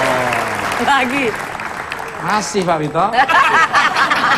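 Studio audience applause and scattered chuckles on an Indonesian TV talk show, rising in bursts under and between people talking.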